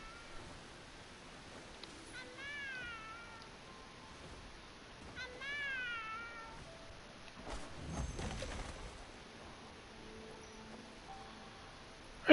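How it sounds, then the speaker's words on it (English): A cat meows in the video game Where Winds Meet, two faint rising calls a few seconds apart over a quiet in-game ambience, followed by a brief rumble. "There's a kitty!"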